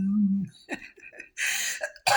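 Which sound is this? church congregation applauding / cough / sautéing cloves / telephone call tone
cough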